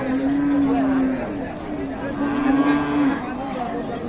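A cow moos in two long, low drawn-out calls over a busy background of crowd chatter and voices at an outdoor cattle market where cows and calves are sold.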